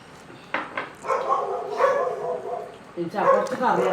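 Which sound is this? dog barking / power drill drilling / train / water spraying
dog barking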